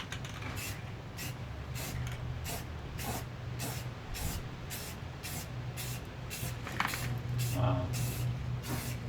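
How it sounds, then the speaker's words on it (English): Clear coat is sprayed onto a Toyota Camry headlight during a DIY restoration, in a run of short, evenly repeated hissing bursts from a spray can, close by and fairly quiet. "it depends on how good you are with applying clear coat"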